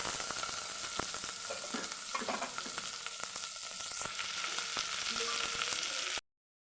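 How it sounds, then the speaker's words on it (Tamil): Sliced onions sautéing in a pan for Tamil ridge gourd kuttu, a steady close sizzle with occasional scraping and stirring clicks throughout, then sudden silence at the end. "வெங்காயம் நல்லா வதங்கணும்."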